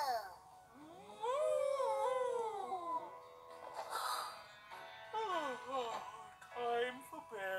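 Cartoon dogs waking up, whimpering and then howling in long rising and falling wails, close and fairly quiet, mixed with some animated voice sounds.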